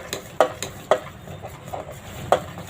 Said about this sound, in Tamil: நம்ம கிண்டிக்கிட்டே இருக்கணும்.